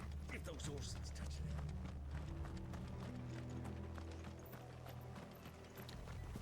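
Horse hooves clip-clop in a video game with a quick, steady galloping rhythm that continues throughout, mixed with low game sounds and some voice activity.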